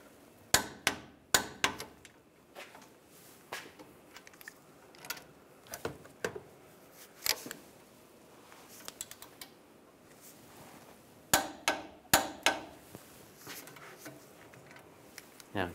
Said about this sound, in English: Now we'll torque those bolts to 129 foot-pounds.